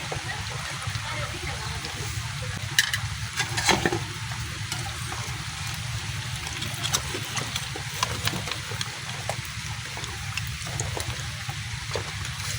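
Samosas frying in hot oil in a village kitchen, a steady dense sizzle running throughout with a few brief clinks and knocks, while rain may be falling outside.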